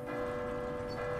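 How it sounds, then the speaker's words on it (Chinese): A single bell tolls in Resident Evil 2 Remake, one sustained ringing strike with a clear, steady tone that hangs for about a second, moderately loud and alone. "这他妈听到钟声"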